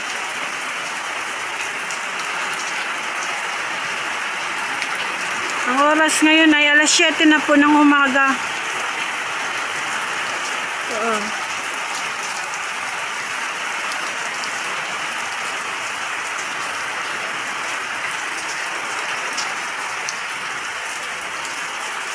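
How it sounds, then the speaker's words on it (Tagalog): Steady heavy rain from a typhoon in Bicol pours down as a dense, continuous hiss throughout, while a person briefly speaks over it partway through. "Ayan po, grabe na naman ang ulan."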